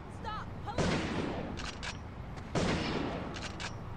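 Shotgun fire in the video game Urban Chaos: two loud booming blasts about two seconds apart, each followed by short metallic clicks, with faint game sounds in between.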